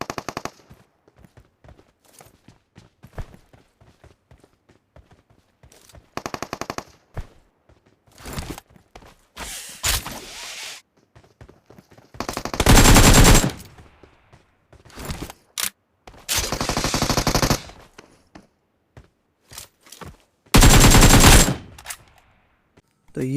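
Automatic gunfire rings out in a PUBG Mobile battle royale match near a church, with loud sustained bursts separated by short pops, single shots and quiet stretches of footsteps.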